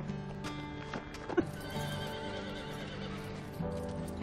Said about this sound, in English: can we pet the horses?